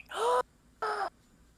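Voice imitating a water elemental gasping with excitement: two sharp, breathy intakes of air, the first longer and the second shorter, close and moderately loud with a brief pause between.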